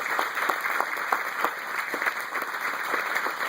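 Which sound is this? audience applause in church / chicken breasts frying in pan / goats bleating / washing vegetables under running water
audience applause in church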